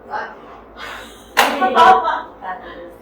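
Two sharp hand claps land in quick succession mid-clip, loud and close, with someone talking in Korean before and after them.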